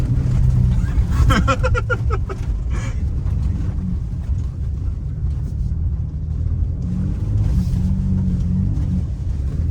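A Ford Ranger Raptor V6 pickup rolls slowly along a dirt track, its engine a steady low rumble close by with a brief rise in revs early on, while people talk inside the cab over it.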